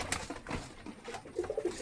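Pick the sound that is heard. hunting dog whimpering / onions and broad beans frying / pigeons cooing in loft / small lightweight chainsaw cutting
pigeons cooing in loft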